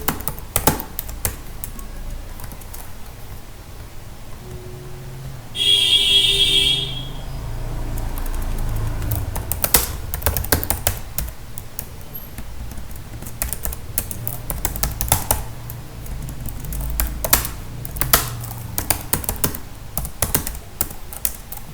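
Close typing on a computer keyboard while setting up a restaurant project in Odoo, a steady stream of clicking keystrokes with short pauses, a brief horn-like tone partway through, no voices.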